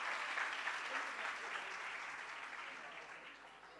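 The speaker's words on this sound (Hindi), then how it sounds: "यीशु के लिए ज़्यादा तालियां।" Sustained applause from a church congregation at a Sunday prayer service, steady clapping across the whole stretch that fades slightly toward the end, with faint voices mixed in.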